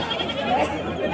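Desi goats at a busy livestock market in Vindhamganj, Uttar Pradesh, bleating amid a dense crowd murmur, with a few short bleats standing out over the steady background chatter.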